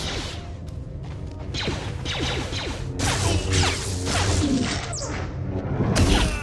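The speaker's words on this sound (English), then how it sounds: "Notice also that you have an ability to deflect some of those blaster bolts." Blaster bolts are deflected by a Sith Warrior's lightsaber on Korriban in Star Wars: The Old Republic, a busy string of whooshing swings, sharp zaps and crashing impacts, fairly loud and building toward the end, with no talk.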